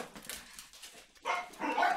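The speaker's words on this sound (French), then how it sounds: "Allez aboyer ailleurs." Dogs bark and whimper nearby in a few rough bursts, the loudest two near the end, with no voices over them.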